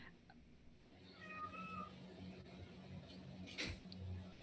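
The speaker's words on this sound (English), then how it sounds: "Where'd that cat come from?" A faint, distant cat meow with a drawn-out rising cry sits under a noisy background of low murmur and rumble, followed by a brief sharper sound.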